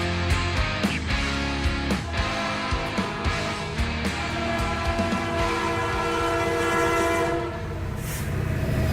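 A train sound effect: a continuous loud rumble of rail cars with clattering wheels and a sustained horn sounding throughout, no voices.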